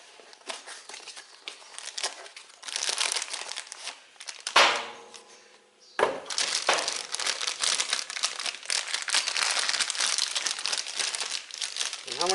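Plastic bags crinkling close by, a continuous rustle that stops briefly midway and then resumes as busy as before.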